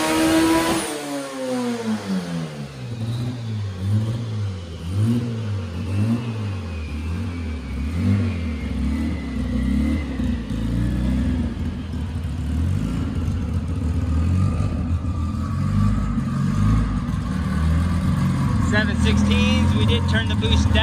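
A turbocharged front-wheel-drive project car revs hard on a dyno, its engine climbing steadily in pitch under load for a long sustained pull, loud and close, with speech over it.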